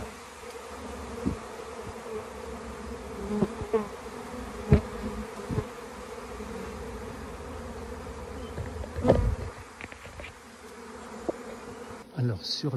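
A honeybee swarm in full flight near a hive gives a steady, dense insect hum that lasts throughout, with a few louder bees buzzing close by now and then.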